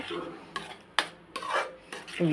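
Sliced onions and chilli frying in oil for a spicy onion-garlic thokku, stirred with a spoon against the pan: a few distinct scraping strokes and clinks over a faint sizzle, close and moderately quiet.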